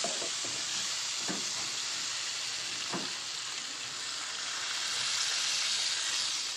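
Water added to vada curry bubbles and sizzles steadily in a pan as it comes to a boil, a continuous hiss with a couple of soft clinks, no voices.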